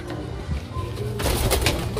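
Pigeons coo softly and steadily indoors, a low warbling murmur that grows busier and louder in the second half, with no one speaking.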